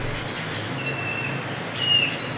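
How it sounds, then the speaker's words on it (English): Birds chirp and tweet over a steady outdoor background at a river in Puerto Vallarta, with a brighter burst of calls near the end of the brief stretch. "I could hear the birds."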